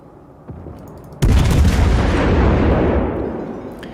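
Naval gunfire in World of Warships, a faint distant thump followed by a sudden loud heavy cannon boom whose rumbling roar decays slowly over a few seconds.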